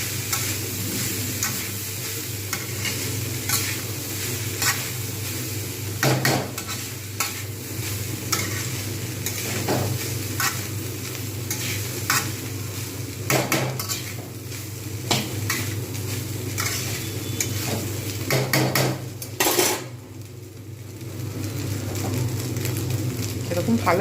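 Vegetable fried rice with winter vegetables being stirred and fried in a pan, a continuous close sizzle broken by repeated scraping and clinking of a utensil against metal, with occasional speech.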